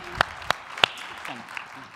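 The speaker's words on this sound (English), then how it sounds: "One last round of applause for Unplug." Brief applause for a startup pitch team at an advertising industry conference, a few sharp distinct claps up front giving way to a thinner scatter of clapping, with faint voices underneath.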